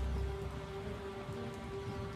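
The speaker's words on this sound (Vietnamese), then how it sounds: "hôm nay mưa to quá" Heavy rain pours steadily in an urban alley with a flooded stretch, a dense, even hiss that runs unbroken throughout at moderate level, with no voices.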